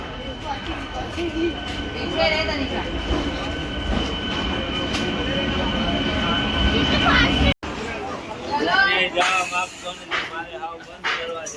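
A train arriving at Neral station in India rumbles and clatters steadily for several seconds with squealing and rail noise, then a brief cut before closer station clatter and faint voices.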